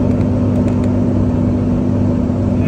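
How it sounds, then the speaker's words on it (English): A car engine labours steadily on the steepest part of a hill climb, giving a loud, constant low hum and drone inside the cabin while the temperature gauge climbs. "the car's working hard today"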